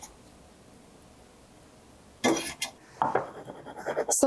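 Boiled potatoes are tipped into a bowl for a potato salad, a quiet stretch giving way to a burst of clattering and knocking of potatoes against the bowl, followed by several shorter scraping clinks close by.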